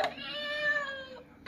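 A toy activity box plays a single electronic cat meow, a clear, close, drawn-out call that lasts just over a second, with no talk over it.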